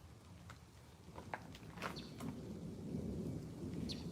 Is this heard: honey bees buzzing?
no